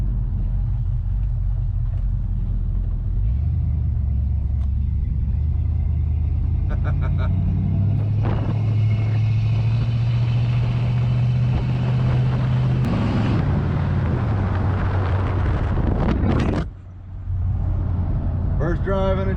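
A rare Dodge truck with a 440 engine, driven for the first time in over ten years, rumbles loudly and continuously from inside the cab, its engine pitch rising and falling with throttle, while wind buffets the microphone and people talk.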